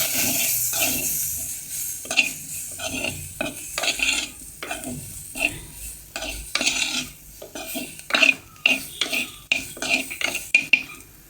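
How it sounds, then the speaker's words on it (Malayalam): Hog plums with salt and chili powder are stirred in a metal pan, each stroke a close, crisp scrape and clink of the spoon, repeating in an uneven rhythm over a soft sizzle, with no talking. "ഒരൽപ്പം ഉപ്പ് നല്ലതുപോലെ ഇളക്കുക"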